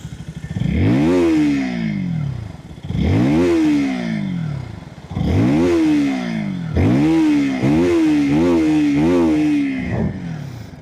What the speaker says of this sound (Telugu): ఒకసారి ఎగ్జాస్ట్ నోట్ వినండి.